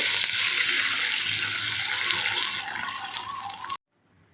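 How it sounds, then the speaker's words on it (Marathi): A glass of water poured steadily into a cooking pan, a loud rushing splash that shifts in tone near the end, then cuts off abruptly. "याच्यामध्ये मी एक ग्लास पाणी टाकत आहे"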